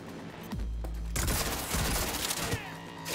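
Gunfire in Cyberpunk 2077 on PS5 comes as a dense, chaotic barrage of booming shots and bursts with a deep rumbling low end, loud and continuous under the game's mix.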